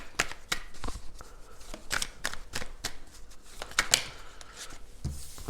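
Oracle cards shuffled and dealt by hand, a steady run of crisp riffling flicks and soft slaps close up, with no voices.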